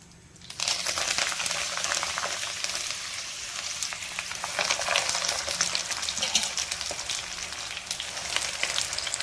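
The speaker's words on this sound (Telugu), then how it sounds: "ఆయిల్ కాగాక గోంగూర ఇందులో వేయాలి" Gongura leaves drop into hot oil and fry with a sudden, sustained crackling sizzle, steady and fairly close, with occasional stirring rustles and no talking.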